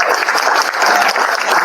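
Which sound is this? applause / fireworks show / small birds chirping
applause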